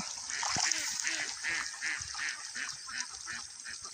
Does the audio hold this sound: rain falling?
no